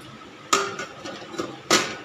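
A lid goes onto a pot of chicken korma cooking on the stove with two sharp metallic clanks about a second apart, close and clear against a quiet kitchen.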